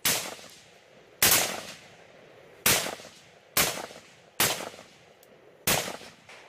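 Six sharp, loud gunshots ring out at irregular intervals in a firefight with gunmen inside a wooden house, each with a short echoing tail, against a quiet background.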